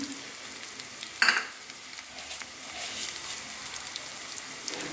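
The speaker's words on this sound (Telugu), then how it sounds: "ఉప్పు వేసి వేయించుకోవాలి." Coriander powder, chili and salt fry with a steady close sizzle while being stirred, and a sharp metallic scrape of the spoon against the pan comes early on.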